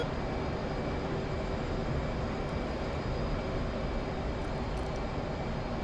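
An F/A-18 jet in the DCS flight simulator flies alone, its steady engine roar filling the cabin as a constant, loud broadband rumble with no breaks.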